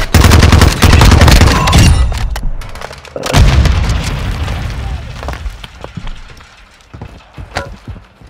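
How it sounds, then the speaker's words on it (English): Grenade blast in Call of Duty: Modern Warfare II amid heavy gunfire, with loud rolling booms up front, another sharp detonation in the middle, then scattered shots fading under faint voices. "Incoming grenade!"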